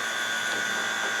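The vacuum pump on a Land Rover 110 Tdi engine gives a steady, close, loud mechanical whine with a high constant tone, heard alone in a short burst.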